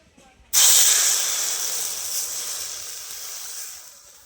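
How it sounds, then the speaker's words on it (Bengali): Water splashes into a hot wok that has just finished frying vermicelli, setting off a sudden loud steamy hiss after a quiet moment, then slowly fading as the sizzle settles. "এবার কড়ার মধ্যে জল দিয়ে দিচ্ছি।"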